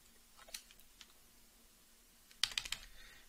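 Short bursts of typing on a computer keyboard while entering a command to recompile Doom source code, with a quick flurry of close, crisp key clicks near the end after one earlier brief burst.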